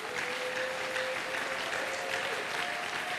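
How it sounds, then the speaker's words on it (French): A church congregation applauds steadily, a dense, even wash of clapping from many hands that continues for a few seconds, with a faint sustained tone running beneath. "Acclame le Seigneur si tu es encore là."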